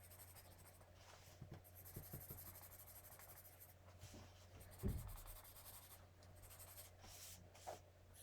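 Quiet scratchy strokes of a watercolor pencil across paper, faint soft rubbing with a few slightly louder marks, set over a low steady background hum and heard alone without talk.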